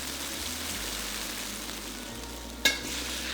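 Fish stir-fry in a pan, stirred after cornstarch slurry is added, a steady soft sizzle under a faint low hum, with one sharp scrape of the utensil near the end.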